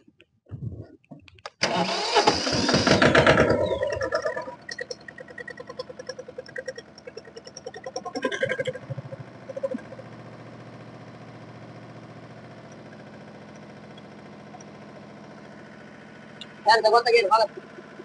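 A tractor-driven Boraste ADITI ECO600 Foglia-1 blower runs at 540 rpm. A loud roaring surge settles into a steady, droning hum with a tonal whine, and a brief louder burst comes near the end.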